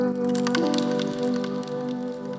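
Crackly rain texture layered over a programmed drum beat, giving a dense patter of small hits and crackles over steady, sustained tonal layers, loud and continuous.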